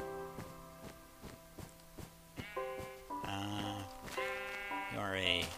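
Sheep bleat repeatedly in the Minecraft video game, several harmonic cries in a row, loud and close, over soft footsteps and a light musical backdrop.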